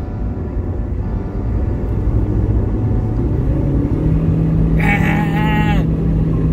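A Toyota Prius accelerating, heard from inside as a low, steady engine and road rumble that grows slightly heavier, with a brief whining tone near the end.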